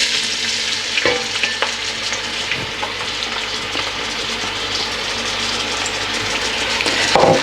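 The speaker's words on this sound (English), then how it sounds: "And we're going to fry these until this is nice and golden brown" Whole spices and onions sizzle steadily in a hot pan for lamb biryani, a continuous close frying hiss broken by a few sharp stirring scrapes and clatters, with no voices.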